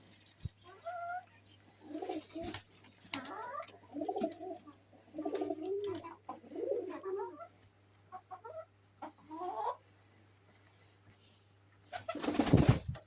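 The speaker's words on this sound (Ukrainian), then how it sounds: "Туркочуть голубчики, да?" Pigeons settling near an outdoor shelter on a wet, rainy Saturday, giving repeated soft cooing and throaty calls in short bursts over a steady low hum, with a loud rustling flutter near the end.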